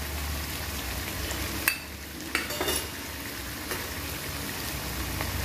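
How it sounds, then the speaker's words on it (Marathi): Chili powder and chole masala spices fry in a pan with a steady low sizzle, broken by a few sharp clinks and scrapes of a spoon stirring against the metal. "हे बघा आपले मसाले व्यवस्थित आता परतले"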